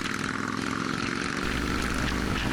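A 2016 Vespa GTS 300ie scooter with a 300cc engine rides along a road, giving a steady, close engine drone mixed with wind rush throughout.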